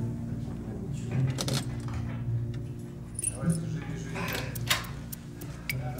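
Small metal keys jangle and clink in several light, uneven bursts close by, with quiet voices speaking around them.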